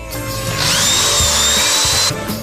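Power drill running on a home renovation job at a bedroom door, a loud steady whine that holds for about a second and a half before winding down, close up, with knocks and clatter of work around it.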